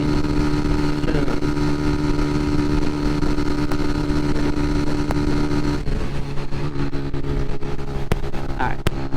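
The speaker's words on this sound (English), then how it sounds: "64 mile per hour top speed test on the highway" A starter motorcycle runs at top speed, around 64 mph, on a highway: a loud, sustained engine drone with heavy wind rush, steady throughout with slight pitch shifts.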